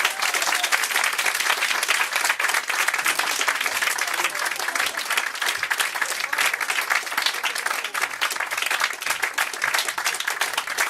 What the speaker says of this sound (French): Merci Annie, on l'applaudit encore une fois, mesdames et messieurs.